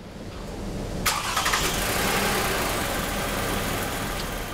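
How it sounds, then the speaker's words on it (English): A car engine cranks and catches about a second in, then settles into a steady idle, close and continuous with no talk. "then I'm going to go over and start the car and see what the alternator looks like on this vehicle"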